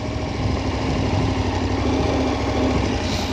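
A KTM 1290 Super Adventure motorcycle engine runs steadily while riding off-road, a close, continuous buzzing drone with no talk.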